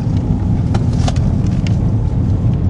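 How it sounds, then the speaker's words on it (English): A local resident's car on a rural road in the Elan Valley, Rhayader, in Wales: a steady low engine and tyre rumble, close and fairly loud, holding for a few seconds with no voices. "Here is a local inhabitant's car"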